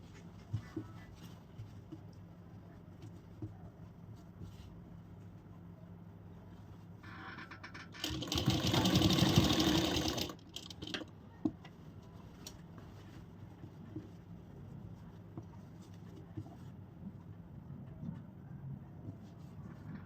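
A sewing machine runs in one burst of about two seconds, stitching elastic along the back of palazzo pants, loud and close, with quiet handling and faint clicks before and after.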